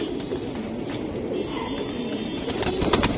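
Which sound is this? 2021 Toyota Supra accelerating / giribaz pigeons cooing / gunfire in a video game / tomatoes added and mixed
giribaz pigeons cooing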